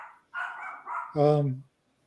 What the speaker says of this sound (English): maybe I can't with my dog barking